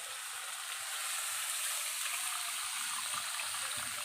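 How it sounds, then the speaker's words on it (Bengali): Warm water goes into a simmering tomato fish curry in a pan, making a steady, close sizzling hiss with soft bubbling throughout, no talking. "এখানে আমি দিয়ে দিচ্ছি উষ্ণ গরম জল"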